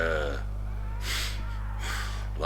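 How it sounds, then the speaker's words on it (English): Heavy, raspy breaths in and out from a character in the survival game SCUM, two or three pulls of air over a low steady hum, fairly quiet and close. "But I can hear him breathing like"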